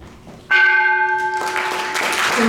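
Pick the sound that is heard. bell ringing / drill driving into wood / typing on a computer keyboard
bell ringing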